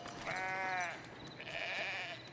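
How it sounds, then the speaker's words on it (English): Sheep bleating in the Foundation medieval city-building video game: two drawn-out, wavering bleats, clear and fairly close, over a soft ambient bed with no talk. "Alright, lots of sheep."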